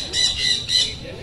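Birds in a cage at a bird park give three loud, harsh squawks in quick succession, close by, with no talk.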